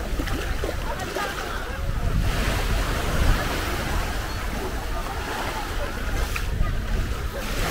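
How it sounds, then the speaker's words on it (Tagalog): Ocean waves surge and wash in a steady, full roar, with wind buffeting the microphone and a boat's hum underneath, during island hopping off Kota Kinabalu, Sabah, Malaysia. "Lumalakas yung alon."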